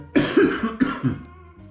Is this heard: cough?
yes